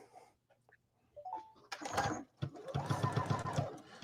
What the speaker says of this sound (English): I'm going to stitch from point to point on that 45-degree line